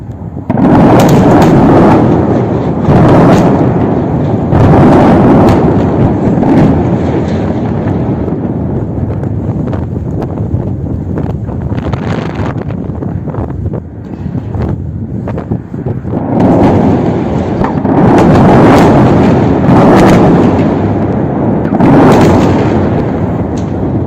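Explosions from the bombing in Tel Aviv, a series of loud, heavy booming blasts recurring every few seconds with rumbling tails, near and dominant, with no talk over them.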